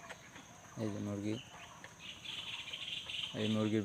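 Chickens, about a month old and kept for sale, cluck in a coop in two short, fairly faint bursts, with background talk and other noise around them.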